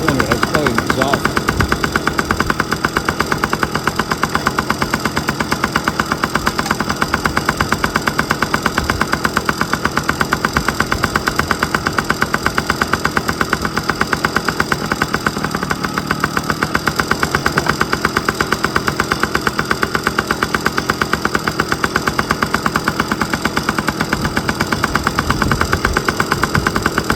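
A 1997 Yamaha PW50 two-stroke motorbike engine idles steadily and continuously with a rattly, buzzing tone while warming up, running without a break for the whole stretch.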